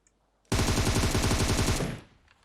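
Rapid automatic gunfire from the PUBG Mobile video game on the Livik map, a loud close burst of fast repeated shots lasting over a second before cutting off, with no talk over it.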